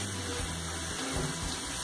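Steady water runs and splashes continuously as grated cassava is washed and squeezed by hand to make a cassava sweet. The broadband gushing stays close and fairly loud throughout, with no speech.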